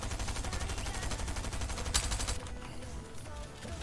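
Rapid gunfire from a video game weapon with heavy recoil, a dense burst of repeated shots close and loud, ending with a sharp crack before the firing drops away.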